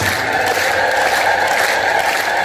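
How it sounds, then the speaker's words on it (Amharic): A congregation ululates in praise during a religious teaching: many voices together sustain a loud, dense, high trilling that carries evenly through the whole moment with crowd noise beneath. "እልልታ ጨምሩበት።"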